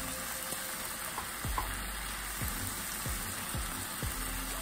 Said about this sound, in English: I'm going to add a little bit of olive oil on this side of the pan. I'm going to put a little bit of onion.